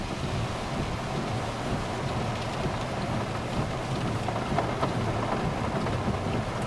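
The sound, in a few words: rain falling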